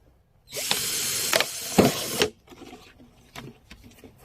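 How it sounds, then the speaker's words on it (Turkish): A drill bores a hole through a plastic bottle, about two seconds of steady whirring with a couple of catches, followed by faint clicks and handling noises. "Şimdi üstten ikinci boğumdan bir delik deliyoruz."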